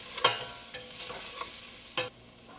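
A spoon stirring onions, cumin and oregano in a pot, with a couple of sharp scrapes against the pot over a low, steady sizzle and no talk.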